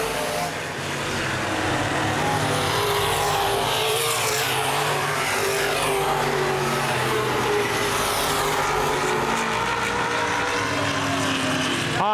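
Open-wheel modified race cars in the 2011 Baer Field Speedway feature, a dense, continuous roar of several engines near the end of the race, with a race announcer talking over it.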